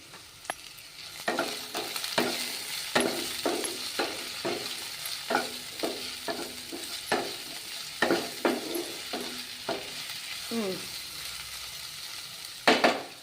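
Tomatoes fry and sizzle in a pan while a spoon stirs them, giving a steady close sizzle broken by repeated scraping strokes and a couple of louder knocks near the end.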